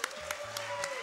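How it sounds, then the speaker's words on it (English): Audience applause at a speedrunning charity marathon event, a brief wash of scattered clapping and crowd noise with a steady tone running underneath. "Yeah, clap for that."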